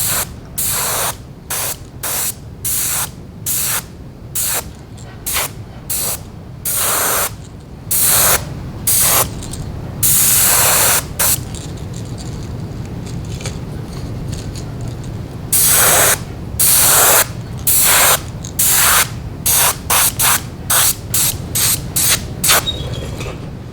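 A paint spray gun hisses in repeated short bursts, coating crappie fishing lures with color shift paint, each loud spray separated by brief pauses over a low background hum.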